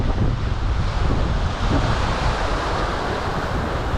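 Strong wind buffets a sailing yacht at sea in April, running downwind, a loud steady roar of gusts and microphone rumble mixed with the wash of waves, with no talk.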